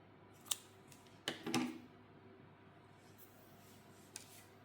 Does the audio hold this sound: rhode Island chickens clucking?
no